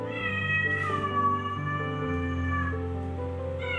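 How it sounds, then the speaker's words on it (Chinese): A cat meows outdoors in a long, drawn-out wavering call, then a second lower, extended yowl, close and fairly faint, with no talking over it. "我家猫咪在外面这边靠腰"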